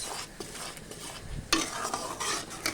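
Ground spices (chilli, turmeric, cumin and coriander) frying in oil for Katla fish curry, stirred with a spoon in sharp scraping strokes over a close, crackling sizzle that jumps louder midway.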